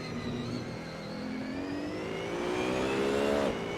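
Race car engine in a racing video game lapping the Autodromo di Monza circuit, a steady loud onboard whine that climbs in pitch through the gears, then drops sharply on a downshift near the end, with no talk.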